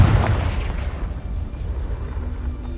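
A Confringo blasting spell in the Hogwarts Legacy video game erupts in a heavy, booming explosion right away, then rumbles and fades into a long, low roar.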